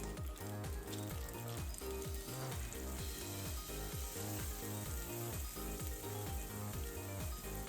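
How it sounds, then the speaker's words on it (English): Bacon and onion fry in a pan for a Japanese izakaya snack. A steady, loud sizzle runs throughout with rapid crackling and popping, close up and with no talk. "Then add the bacon and fry until the crispy."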